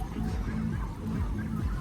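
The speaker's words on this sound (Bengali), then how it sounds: "এখানে অনেকগুলো হাঁস দেখবেন।" Ducks on a wetland farm quack and honk in overlapping bursts, close and fairly faint, with no talk.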